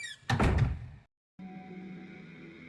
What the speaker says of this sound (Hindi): इसे अपना वहम समझकर जैसे ही उसने कमरे का दरवाजा बंद किया